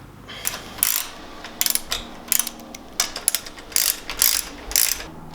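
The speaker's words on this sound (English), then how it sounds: "just dab that onto each little bolt that I'm screwing in" Bolts are screwed into a Polygon Siskiu T7 mountain bike, heard as repeated short bursts of crisp ratcheting clicks, close and fairly loud, in an uneven rhythm with brief pauses between turns.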